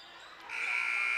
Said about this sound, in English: And nothing doing at the first quarter buzzer.